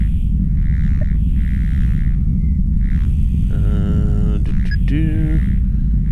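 A Nord Micro Modular synthesizer patch gives off alien, meow-like zapping tones: short buzzy pulses, then rising, stepped harmonic sweeps over a constant low rumbling bed, with no talking.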